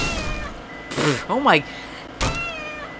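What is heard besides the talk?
cat meowing in pain, sound effects from video game Purr Pals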